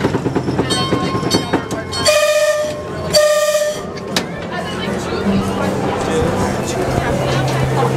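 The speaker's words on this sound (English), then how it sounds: "the train has come to a halt" A Calico Mine Ride train at Knott's Berry Farm, Buena Park, California, rumbles and clatters to a halt while a horn sounds twice in long blasts, with voices talking over the steady rolling noise.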